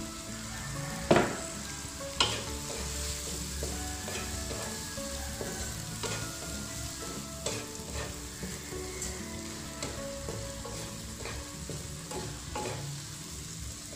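Tofu sizzles steadily in a hot pan for a broccoli tofu oyster sauce dish, with sharp metal-on-pan stirring clicks and scrapes punctuating the continuous frying hiss.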